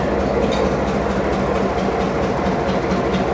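Rumbling and rattling of a train locomotive, number 593, on the Colombo coastal line along the Indian Ocean, a steady close drone with low engine throb and faint clatter, no voices.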